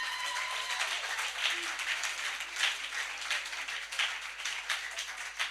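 A church congregation at a Sunday service bursts into sustained, dense applause in praise of Jesus, a steady wash of many hands clapping that fills the room without pause, and no speech over it.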